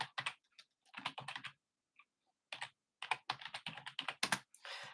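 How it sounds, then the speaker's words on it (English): Computer keyboard typing in irregular bursts of quick keystrokes with short pauses, close and fairly quiet, with no voices. "I'll just type it in."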